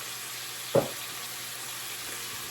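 Meat frying in hot oil in a big soup pot makes a steady soft sizzle, with one brief louder splash or clatter near the start, close by and with no talking.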